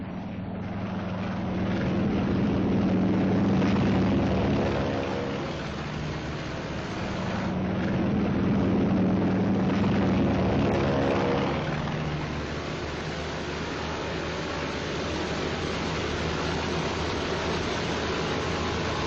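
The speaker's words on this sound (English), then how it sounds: "Our entire air group thunders out behind the group commander." WWII carrier planes take off in sequence from the flight deck of the USS Yorktown in a strong trade wind: a continuous loud roar of piston engines and rushing wind that swells twice as aircraft pass close, with no talking.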